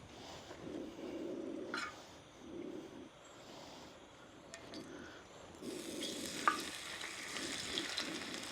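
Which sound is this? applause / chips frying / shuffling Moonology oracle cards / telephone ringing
chips frying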